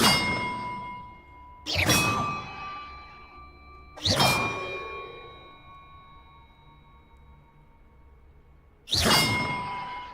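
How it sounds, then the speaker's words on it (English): Bells are struck inside the Hogwarts Legacy video game, four loud metallic clangs spaced irregularly, each ringing out and decaying slowly. "Perhaps the map contains clues about the order I'm supposed to ring the bells in."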